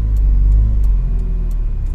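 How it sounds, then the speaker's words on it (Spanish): A car engine idles with a heavy, close, low rumble and vibration, swelling slightly as it is revved, with faint clicks above the steady drone. "Listo, vibra el carro, acelero, pausa de 3 segundos con el embrague"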